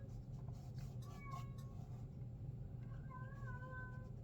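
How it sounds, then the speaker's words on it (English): Two short meows from a cat rise over a steady low hum, one around the middle and a longer, wavering one near the end, both moderately close and soft. "They are awesome cats."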